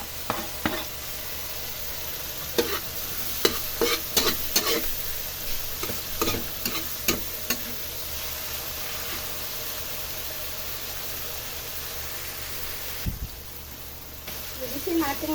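Tomatoes fry in a pan for a Filipino chicken and pork dish, a steady sizzle under intermittent scraping and stirring clicks, with a brief low thump near the end.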